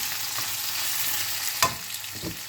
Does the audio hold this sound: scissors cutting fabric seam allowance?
no